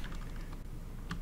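Rapid mouse clicks on the spawn button in War Thunder, a quick run of small, close, dry taps in an uneven rhythm, fairly quiet and without talk.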